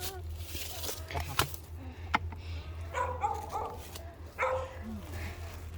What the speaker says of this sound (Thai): อันนั้นหมาที่เลี้ยงไว้